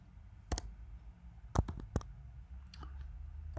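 Keys clicking on a computer keyboard while entering HTML text, a few sharp isolated taps spread out with quiet pauses between, close and fairly soft with no talking.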